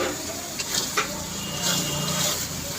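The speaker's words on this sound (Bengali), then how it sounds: "এই চিংড়ি মাছের মাথা বাটাটা আমি দিয়ে দিলাম" Ground shrimp head paste hitting a hot pan, a brief close sizzle and frying hiss with a couple of utensil clicks, fairly loud and without talk.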